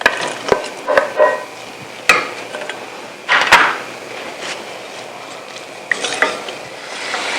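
Onions frying in about half a cup of oil in a pressure cooker for paya (trotter) curry, with a steady low sizzle broken by the scrape and clatter of stirring against the pot.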